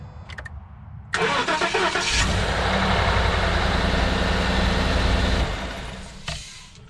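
A 2011-2014 Ford F-150 with the 5.0L V8, which has an intermittent starter fault, cranks briefly and fires up loudly, then settles into a steady rumbling idle for several seconds before the sound drops away. The engine is heard close and alone.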